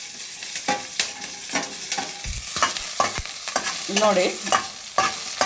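Ingredients for a pea curry, cut pieces with optional potato and capsicum, fry in a pan with steady sizzling while a spoon scrapes and stirs in repeated sharp clinks and knocks; a brief voice speaks once.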